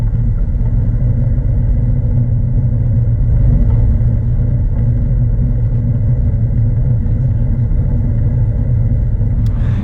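Caterham Seven sports car drifting, its engine droning loud and continuous with a steady rumbling roar throughout.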